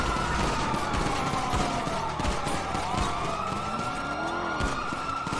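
Continuous GTA roleplay action on the NoPixel server, with sirens wailing and car engines and skids running throughout. Gunfire is mixed into the loud, busy scene but is hard to pick out as separate shots.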